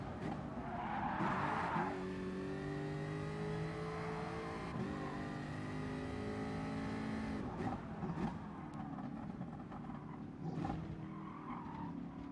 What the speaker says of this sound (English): That little gurgle that you hear in the engine.